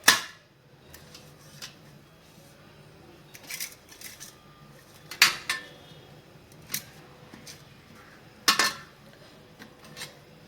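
A knife trims the dark crusts off bread slices for bread halwa, giving a series of short, sharp scraping cuts and clicks spaced irregularly, fairly close and otherwise quiet.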